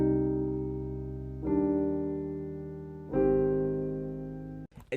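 Sustained piano chords played through speakers and re-recorded with a phone held in front, three long swelling chords with a slightly muffled, lo-fi tone that fade before a brief rustle at the end.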